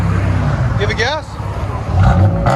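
A 2016 Chrysler 200 V6 with straight-pipe dual exhaust revs up, a loud raspy engine roar rising and swelling near the microphone, with people talking over it.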